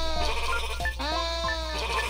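Sheep in a game bleat repeatedly, several overlapping nasal calls close and loud over a steady background hum.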